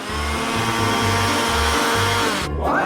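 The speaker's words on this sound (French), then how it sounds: "Et je vais le faire rapidement avec un mixeur." An electric mixer blending grated cucumber and eggs into batter, loud and close, whirring in repeated short pulses with brief pauses between bursts, then cutting off near the end.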